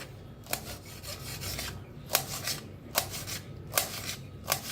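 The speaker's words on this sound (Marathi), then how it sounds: "आता मिरच्या कापून घेऊया।" Green chillies are cut with a knife in a kitchen, giving about six evenly spaced, crisp slicing strokes close up over a quiet background.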